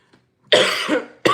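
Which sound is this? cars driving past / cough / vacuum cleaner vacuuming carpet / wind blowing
cough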